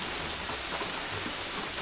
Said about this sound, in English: All I've had is rain.